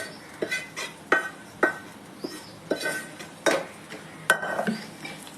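A spoon stirs and scrapes through okra with chili powder and salt in a metal bowl or pan, giving a steady run of sharp, close clinks and knocks about every half second, with a soft rustle between strikes.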